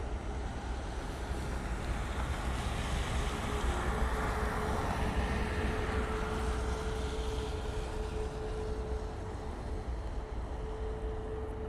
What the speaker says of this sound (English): Inbound, we have the Ryanair coming in from Dublin.